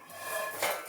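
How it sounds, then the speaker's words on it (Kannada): Peanuts dry-roasting in a pan while being stirred for homemade dry fruit laddu, a brief, close, soft scraping rattle of nuts against metal. "ಕಡಲೆ ಬೀಜ ಇದನ್ನು ಹಾಗೆ ಹುರ್ಕೋಬೇಕು"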